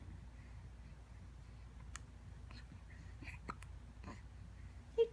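A baby hiccups softly, producing a few faint, irregular little clicks in a quiet room, with one louder hiccup right at the end.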